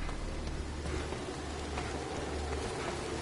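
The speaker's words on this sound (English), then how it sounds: "Right now. It's literally raining blood." Steady, dense rain of blood pours down in Evil Dead: The Game, a continuous hiss of falling drops with no pauses or voices.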